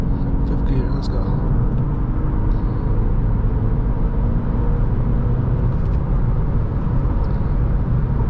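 Acura Integra A-Spec cruising in fifth gear, a steady loud engine and road rumble heard from inside the car, continuous and even throughout.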